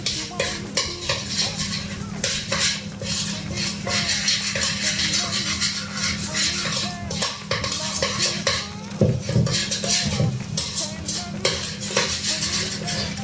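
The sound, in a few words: stirring apple pie filling with lemon juice in a bowl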